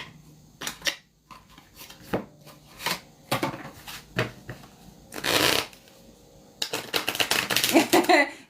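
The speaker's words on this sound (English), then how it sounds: "Let's get some love angel cards from my collective." Angel oracle cards are shuffled by hand in repeated quick riffling bursts, crisp and close, with brief pauses between, and a longer dense flurry near the end.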